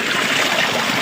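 Water flowing through a village channel, a steady broadband rush and trickle that stays loud and even throughout, with no voices over it.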